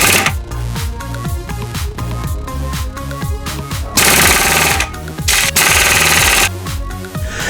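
Pneumatic impact wrench driven by an air compressor at full pressure tightens a bolt on a Beverly 350 scooter, loud rapid hammering bursts with short pauses between them, close up and with no talk.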